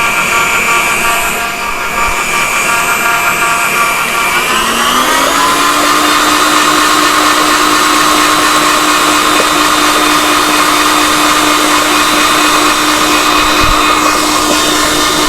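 An electric stand mixer runs on high speed, whipping pound cake batter made with soft butter and eggs: a steady, loud motor whine that rises in pitch around five seconds in and then holds constant until the end.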